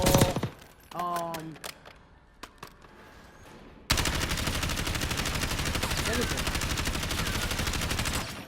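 A Kilo assault rifle firing in Warzone: scattered single shots and short clatters first, then a loud, steady automatic burst that rattles on without pause for several seconds.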